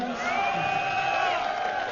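A live crowd roars and whoops at an MLG Providence esports match of Epik Gaming vs TSM, with a loud continuous wall of cheering and sustained shouts filling the whole moment.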